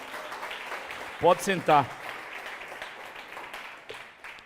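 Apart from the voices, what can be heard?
church congregation applauding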